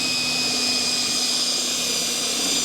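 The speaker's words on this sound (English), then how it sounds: "we'll drill the heads off of all of these rivets all the way around" A drill cuts the heads off rivets around a Kenworth cabover headlight panel, giving a steady loud whine with a sustained high tone that runs unbroken for the whole stretch.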